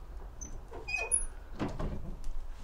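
An old church door is tried but stays locked: a few wooden knocks and rattles with a faint squeak, close but fairly quiet over outdoor background noise.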